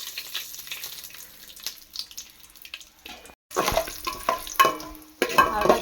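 Whole spices (cinnamon, bay leaf, cardamom, cloves and mace) sizzle in hot oil for a home-style prawn biryani, with a quiet stretch giving way to close, crackling frying and stirring scrapes in the pan.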